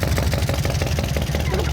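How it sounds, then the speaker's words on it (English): A drag racing motorcycle engine runs with a rough, pulsing low rumble, loud and close, with faint voices underneath. "Will we be able to hear some revs, please?"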